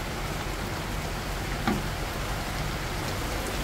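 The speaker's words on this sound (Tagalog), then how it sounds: "Oh, super lakas ng rain." Heavy rain pours down steadily, a dense continuous hiss of drops on surfaces that stays loud and unbroken throughout, with no voices.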